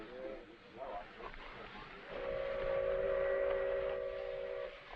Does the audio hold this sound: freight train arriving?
yes